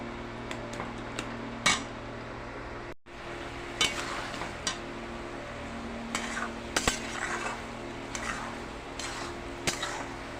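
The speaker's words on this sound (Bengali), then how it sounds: "মশলার সাথে খুব ভালোভাবে মটরটাও কষে নিলাম, সিদ্ধ করে রাখা মটরটা।" Boiled peas being stirred with spices in a pot, with a soft low sizzle under occasional sharp clinks and scrapes of a spoon against metal, close but fairly quiet, with no voices.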